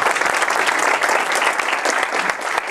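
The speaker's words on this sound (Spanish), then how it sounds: "aplauso para Marinela Escobar." Audience applause in a lecture hall as a speaker is welcomed, dense and steady clapping from many hands filling the whole stretch at close range.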